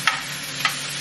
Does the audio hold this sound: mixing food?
yes